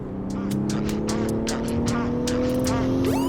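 Sixth-generation VW Golf R with a turbo fault, engine droning steadily at constant pedal while the car surges and jerks in rhythmic pulses, with a voice talking over it.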